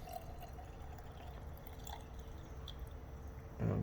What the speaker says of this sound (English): pour this stuff back in its storage jar.